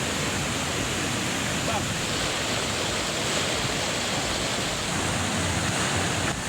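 The swift Batang Anai river rushes through the Megamendung area in a loud, unbroken roar of flowing water that holds steady throughout.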